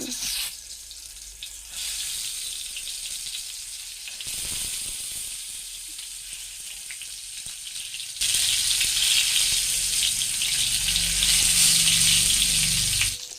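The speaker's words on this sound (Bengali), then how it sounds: "তেলটা গরম হলে আমি পটলগুলো এর মধ্যে দিয়ে দিচ্ছি" Pointed gourd (potol) pieces dropped into hot mustard oil in a pan, the hiss and sizzle swelling louder and denser in the later half as they start to fry, with no talking.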